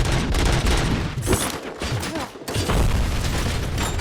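Dense game gunfire from a street turf fight in Rogue City, with rapid overlapping shots and bursts continuing loudly through the whole stretch, briefly thinning near the middle before resuming at full intensity.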